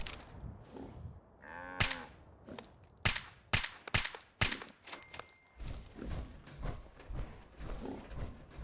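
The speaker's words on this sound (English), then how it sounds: "Is there a cow in here?" A cow in the video game Fallout 4 lets out a loud, close moo, followed by sharp clicks, thuds and game mechanism noises.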